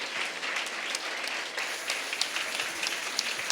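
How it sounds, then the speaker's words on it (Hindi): A church congregation claps loudly and continuously, a dense steady applause without any voices. "जोरदार ताली वाजवा आपण."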